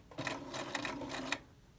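A sewing machine back tacks along a neckline seam in a short burst of rapid, even stitching that pauses briefly between runs, close and fairly quiet with no voices.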